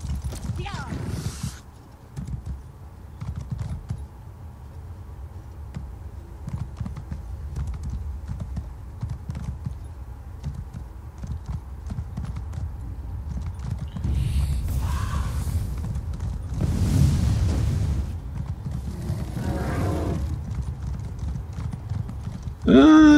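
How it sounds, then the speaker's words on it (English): Horse hooves clip-clopping at a quick gait in Elder Scrolls Online, a steady rhythmic patter beneath game ambience and someone talking, with brief whooshes and louder effects later. "But we can just jump on the horse."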